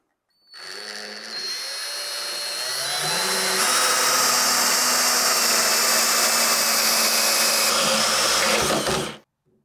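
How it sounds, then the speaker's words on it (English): A power drill whirs steadily and loudly for about eight seconds, its pitch shifting slightly as the bit bores a 1-inch hole through a wooden door, then cuts off. "Now I need to drill a 1-inch hole through the front of the door for the latch."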